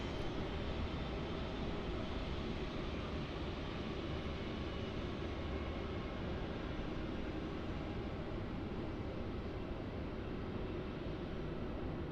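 Broadband jet engine roar from a Qantas Boeing 717 in Silver Roo livery at Melbourne Airport, a steady, sustained rumble and hiss holding constant level throughout with no voices.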